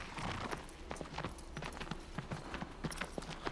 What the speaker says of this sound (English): the horse sounds very ASMR. Yeah, the sound effect and everything